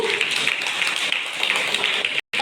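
At the Abhinava Sarigamapa finale event in Gandhi Bhavan, an audience applauds the winner with dense, continuous clapping at a steady loud level. The clapping cuts off abruptly near the end.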